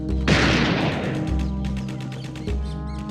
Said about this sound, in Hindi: यहाँ गोलियां चल रही हैं